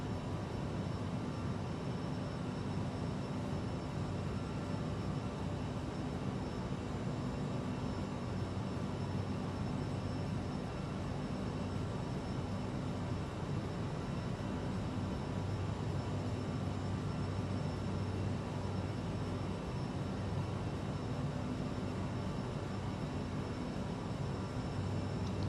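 Aircraft engine roar in a flight simulator game during the approach to LaGuardia, a steady dense drone with faint tonal hum, constant throughout and no voice over it.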